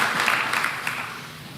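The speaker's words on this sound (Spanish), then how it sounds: "nuestra gratitud a Brian y a Héctor dándole un fuerte aplauso por este tiempo." Steady applause from a crowd, dense clapping that holds throughout and tapers slightly toward the end, with no voices over it.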